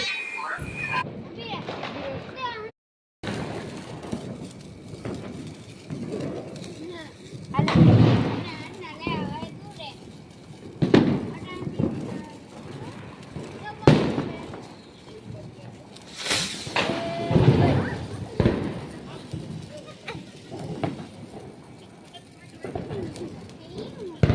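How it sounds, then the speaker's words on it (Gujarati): Diwali firecrackers bursting outdoors, several sharp loud bangs and crackles spread across the clip, with people talking and calling out in between. "હવે આપણે આવી ગયા છે ફટાકિયા ફોડવા માટે"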